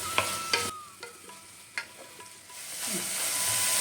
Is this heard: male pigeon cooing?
no